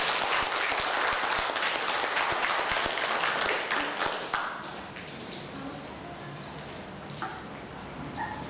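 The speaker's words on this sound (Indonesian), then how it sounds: "saya minta tepuk tangan untuk angkatan 95" A reunion audience of 1995 geography alumni at a lecture hall event claps in a loud, dense burst of applause that tapers to softer scattered clapping and room murmur.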